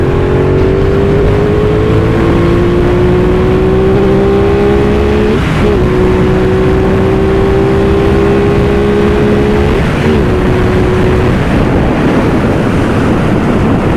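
An Aprilia Tuono 660 motorcycle engine revs hard after a downshift, its rising tone climbing steadily, dropping briefly near 5.5 s and again around 10 s as gears change, under constant wind rush.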